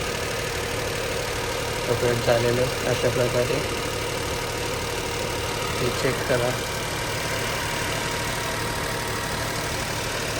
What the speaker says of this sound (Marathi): बघा 3 सिलेंडर इंजिन असून पण व्हायब्रेशन नाही आहे